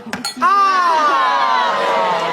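A few quick clinks of glasses touching in a toast ring out at the start, followed by a bright, sustained tonal ring and murmuring voices.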